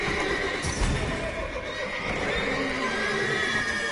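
Horses in the stables of the video game The Witcher 3 neigh and whinny at close range, with a hoof clop or two among a dense, steady bed of game ambience and no talk.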